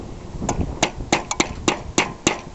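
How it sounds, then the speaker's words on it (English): A hammer strikes the end of a screwdriver to drive a part of a 2012 6000 hoist assembly into place, giving about nine sharp, close metallic taps at an uneven pace with no talk. "you can take like a hammer and a screwdriver, drive it in there a little bit further"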